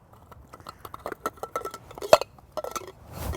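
Metal pieces of an Optimus camping stove pan set clink and clatter as they are handled up close, in irregular bursts of small knocks, with no talking.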